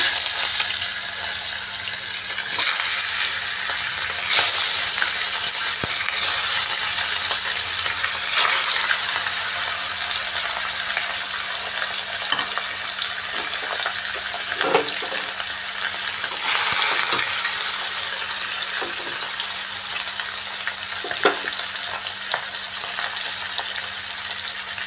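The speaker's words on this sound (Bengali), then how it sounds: "লবণ আর হলুদ দিয়ে মেখে রাখা মাছগুলোকে এখন ভেজে নেব।" Fish marinated in salt and turmeric fries in a pan with a loud, continuous sizzle and crackle, punctuated by occasional clinks and scrapes, with no talking.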